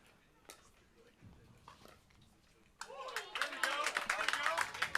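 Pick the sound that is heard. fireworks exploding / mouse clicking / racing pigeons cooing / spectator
spectator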